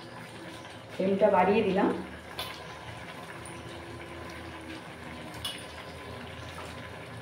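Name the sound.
rinsing mustard paste bowl with water into cooking pan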